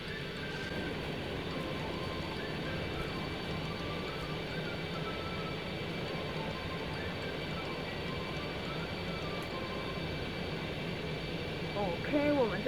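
An F-18 fighter jet's engine in the X-Plane 11 flight simulator gives a low, steady, faint drone with a thin constant whine, holding evenly throughout.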